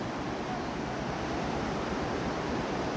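The Likhu Khola, a large, fast mountain river, rushes in a steady, loud, unbroken roar of water close by, with no voices and no other sounds over it.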